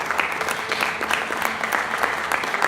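A church congregation claps together in a steady, dense round of applause, loud and close, filling the room throughout with no speech over it.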